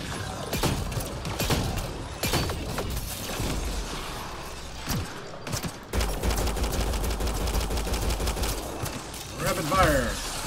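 Rapid automatic weapon fire in the Mass Effect Andromeda video game: dense volleys of close, loud shots crackle in repeated bursts with brief pauses, layered over mechanical clatter and game effects for about ten seconds.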